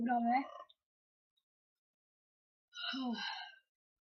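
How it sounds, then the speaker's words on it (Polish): A sleepy person yawns during a Robocraft gaming session: two breathy, voiced exhalations, the first at the start and a second about two and a half seconds later, with silence between them. "Przepraszam, że ziewam, ale mi się spać chce."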